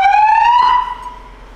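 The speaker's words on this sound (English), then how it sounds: "This is a PA system and a siren" A 2020 Ford Explorer Interceptor siren, run through a Phoenix controller, gives a loud, close electronic wail with a rising pitch. It holds for under a second, then fades quickly.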